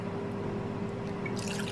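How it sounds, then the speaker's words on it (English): Rice vinegar poured into a vegan rainbow quinoa salad, a steady soft trickle and faint dripping close by, lasting under two seconds over a low background hum, with no talking. "So I'm also going to add some rice vinegar."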